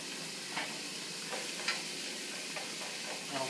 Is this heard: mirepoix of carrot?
yes